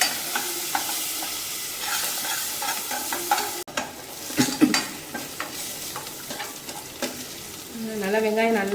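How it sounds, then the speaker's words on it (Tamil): Onion, curry leaves and coriander frying in a pan while cooking kola urundai kuzhambu, with a loud, continuous sizzle broken by stirring scrapes and occasional utensil knocks. "வெங்காயம் கருவேப்பிலை கொத்தமல்லி போட்டு தரணும் இது நல்லா ஃப்ரை ஆகட்டும்"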